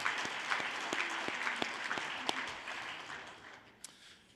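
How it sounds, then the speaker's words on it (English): An audience at a charity gala applauds, with crisp individual claps near the front and a broader wash of clapping that gradually fades away. "Let's give her a round of applause."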